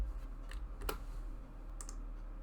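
Light computer keyboard typing, a few quick scattered key clicks entering a stream name in process flowsheet software, quiet and close over a faint steady hum.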